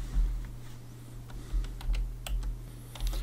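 Keystrokes on a computer keyboard come in irregular, close clicks and short bursts over a steady low electrical hum, with no talking.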